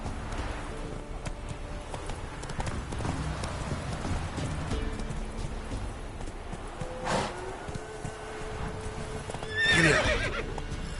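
Roach the horse from a video game neighs near the end, with a steady run of galloping hoofbeats and soft rain-like ambience beneath it, and no voices.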